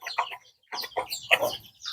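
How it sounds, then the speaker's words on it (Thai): Chickens cluck on a rural farm in Laos, a few short choppy bursts of clucking in quick groups with brief pauses, close and fairly clear with no talk. "ไก่นะ"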